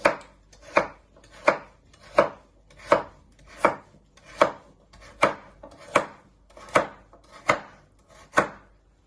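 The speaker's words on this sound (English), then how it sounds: "So you first chop it down the middle, turn it around, and just chop them." A knife chopping vegetables into little pieces on a cutting board, about a dozen crisp, evenly spaced strikes in a steady rhythm, close and alone with no talking.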